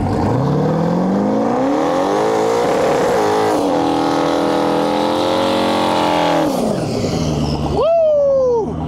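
An LS-swapped 1990 Volkswagen Jetta makes a drag strip pass at Medicine Hat, its V8 roaring loudly and climbing through the gears, then the revs fall away sharply near the end with whining tones, while a voice speaks over it.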